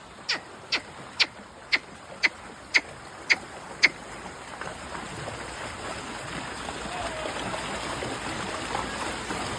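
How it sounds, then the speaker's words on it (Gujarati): Eight evenly spaced sharp clicks open the scene, then a steady, wide hiss of falling rain and running water builds and holds at a moderate level to the end. "પાણી તો ભરાઈ જાય ને ભાઈ, આ તો વરસાદ કહેવાય"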